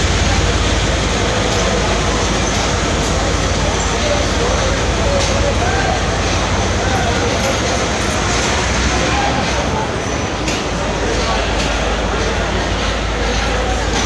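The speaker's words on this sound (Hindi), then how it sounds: "पूरा स्टेशन हिला के रख दिया ट्रेन ने।" A train pulls into a busy railway station on a journey to Karachi, a loud, steady, continuous rumble and roar filling the whole stretch with no breaks, heard close up.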